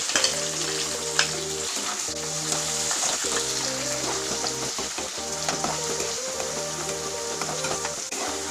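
Chopped onions dropped into a pan of hot oil with cumin seeds and garlic, sizzling and crackling steadily close up, with a few short stirring scrapes, no talking.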